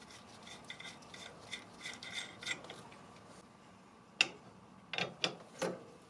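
A ratchet wrench working loose a stubborn upper pulley bolt on a John Deere X320 riding mower, giving bursts of close, quiet clicking strokes, then a pause and a few sharper, louder ratchet sweeps.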